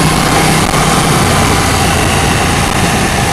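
A KTM 790 motorcycle engine runs loud and steady at close range, its drone broad and continuous for the whole stretch with a slight shift early on as it moves up through the gears, blended with wind rush and no talking.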